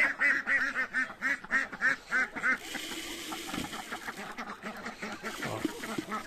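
Ducks quack in a rapid, close run of calls on a farmyard among chickens, geese and sheep leftovers, then fade into a busier mix of softer fowl chatter and rustling.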